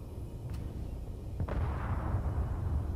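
An RBSA cannon round exploding in Space Engineers, a short sharp burst followed by a rolling low boom that lingers, set against a steady ambient hum, fairly distant and moderate in level.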